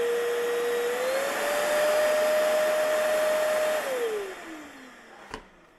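A MOOSOO L10 Plus cordless wet/dry vacuum whines steadily, steps up from low to high power and holds there, then spins down as it is switched off, ending with a faint click.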